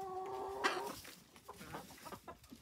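Chickens cluck in a walk-in coop built from free pallets, a string of short, soft clucks and murmurs at close range, with one brief louder call near the start.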